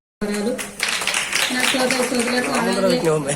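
Audience applause breaks out to welcome the chief guest at a free sewing machine and certificate distribution event, dense steady clapping that starts abruptly and continues loudly to the end, with a voice speaking over it.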